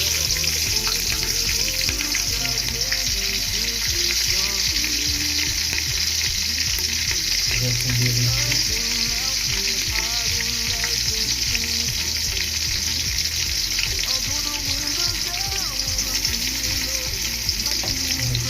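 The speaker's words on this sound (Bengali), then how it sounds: "পেঁয়াজ মরিচ রসুন সব কিছু দিয়ে দেবো দিয়ে ভাজি করে নেব" Chopped onion, chili and garlic fry in a pan of hot oil, a loud steady broadband sizzle that runs unbroken and close, with faint clinks and stirring scrapes, no voices.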